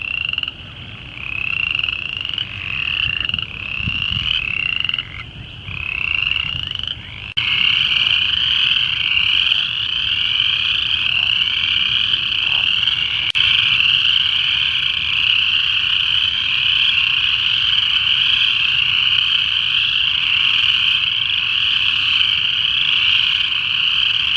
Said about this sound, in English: There's a couple spring peepers.